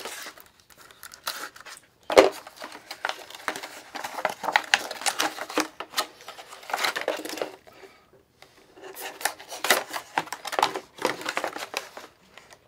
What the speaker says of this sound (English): Go ahead and cut the bottom off while we're cutting.